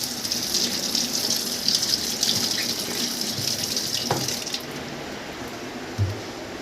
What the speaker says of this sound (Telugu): శుభ్రంగా ఇప్పుడు మనం మామిడికాయలు కడిగేసి పెట్టాము